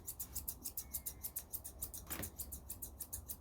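Grooming scissors snip in a quick, steady rhythm while trimming a poodle's top knot, producing close, crisp repeated clicks with a faint background hiss and no talking.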